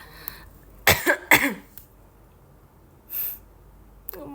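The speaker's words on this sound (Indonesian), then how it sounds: "Batuk." Two sharp coughs close together near the mic, then a softer breathy cough or throat noise a moment later, set against a quiet room.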